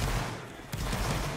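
Volley of gunfire in a video game battle set in Egypt, a dense, loud crackle of massed shots with a sharp burst near the middle and continuous battle noise throughout.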